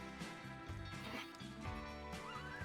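Horse neigh from the Roblox Western game The Wild West, a fairly faint in-game whinny set against steady background game audio, with no talking over it.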